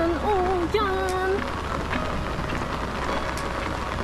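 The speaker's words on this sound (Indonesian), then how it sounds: "Hujan, hujan, hujan." Steady rain falls at an outdoor bamboo park, an even hiss of drops on surfaces throughout, with a brief voice over the start before the rain carries on alone.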